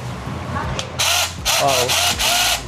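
A small cordless chainsaw whines in several loud bursts, revving up and cutting in short runs with brief pauses between them.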